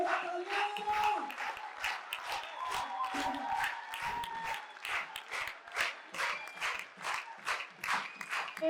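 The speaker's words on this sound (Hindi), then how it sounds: "सियाचिन के लिए जोरदार तालियां होनी चाहिए." Applause from a conference audience in a hall, many hands clapping in dense bursts that swell and fade, with occasional voices mixed in.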